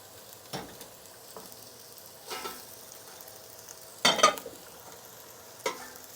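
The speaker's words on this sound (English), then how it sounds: "Into the pot, you're going to add your carrots, celery, and onions." Carrots, celery and onions cook in light olive oil in a soup pot for chicken noodle soup, heard as a faint low hiss with a handful of spaced stirring scrapes and clatters, quiet and close, without speech.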